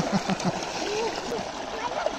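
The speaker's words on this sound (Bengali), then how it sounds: "এই ডুব দাও, ডুব দাও।" Someone dunks into water during an outdoor bath in a tank in the middle of a field, with soft splashes and sloshing under constant running-water noise, while people talk throughout.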